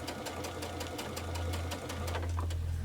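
A sewing machine stitches fabric along a scalloped quilt edge, a steady fast mechanical whir with regular needle ticks and a low motor hum that swells slightly toward the end, with no voices.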